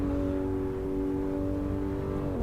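Porsche Macan Turbo in Assetto Corsa, its engine holding a steady, droning tone at constant revs with a slight pitch shift near the end, loud and close.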